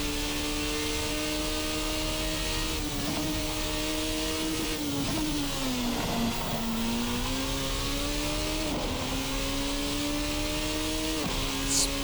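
Formula RSS Supreme race car in a sim racing game, its engine droning steadily and loudly from close by, pitch rising and dipping with gear changes and throttle, with no talking.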